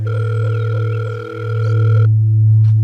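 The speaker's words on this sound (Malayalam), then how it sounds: "റിങ് ചെയ്യുന്നുണ്ടാ? എടുക്കുന്നില്ലല്ലോ." A phone call ringing unanswered: a loud, steady electronic ringback tone with a sustained pitch that shifts partway through, heard alone.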